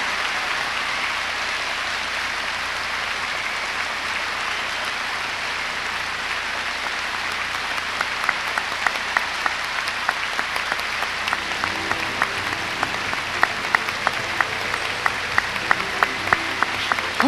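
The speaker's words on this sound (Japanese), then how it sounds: "今一度皆様大きな拍手でお祝いしてあげてください" Sustained audience applause for a Latin-section Paso Doble demonstration at a 1993 ballroom dance championship, steady and dense throughout with sharper individual claps growing more prominent toward the end.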